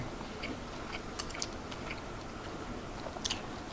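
Close, wet chewing and biting of sticky rice with fermented pork bone (naem) for about four seconds, steady mastication with a few crisp crunchy bites, no talking.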